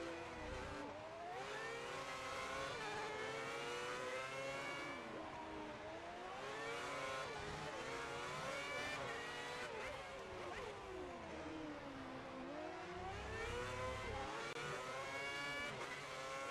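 Race car engines in the F1 2010 video game, a wet European GP race, whine loudly and continuously, the pitch sweeping up and down through gear changes and revs with several cars overlapping.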